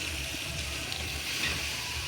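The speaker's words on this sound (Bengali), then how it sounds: "জল দিয়ে দিলাম" Water is poured into a pot of meat curry over a wood fire, a steady close rushing splash that holds evenly for a couple of seconds with no talk.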